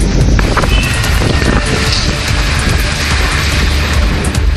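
A strong gale sweeps through the Avadi suburbs of Chennai. It roars as a loud, continuous rush, buffeting the microphone without letup and drowning out everything else.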